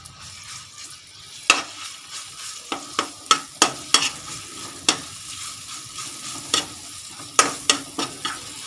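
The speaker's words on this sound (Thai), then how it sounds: "เราจะมาผัดเนี่ยค่ะสามเกลือนะ" A little oil and a seasoning paste are stir-fried in a pan for salty braised pork belly. A quiet sizzle is broken by a run of sharp, close spatula scrapes and taps at an uneven rhythm.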